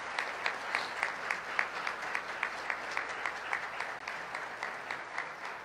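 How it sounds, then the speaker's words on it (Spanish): An audience at the opening of a family law congress in Mexico gives a welcoming round of applause, distinct claps pulsing in a fairly regular rhythm, moderately soft and steady from start to finish. "Démosle a todos un cordial aplauso de bienvenida."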